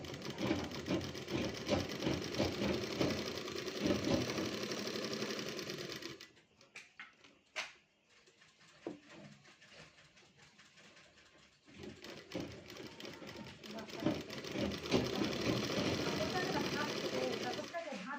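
A sewing machine runs straight stitches along folded fabric in a fast, steady whirr, pauses for a quiet stretch of small handling clicks, then resumes stitching while a voice talks over it.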